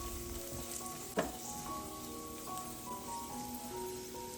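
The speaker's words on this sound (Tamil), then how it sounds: "முந்திரி பருப்பு 10-15 முந்திரி பருப்பு சேர்த்து லைட்டாக வறுத்துக்கலாம்" Cashews and raisins frying in hot ghee in a pan, a steady soft sizzle with a brief stirring clatter partway through, close and fairly quiet with no talking.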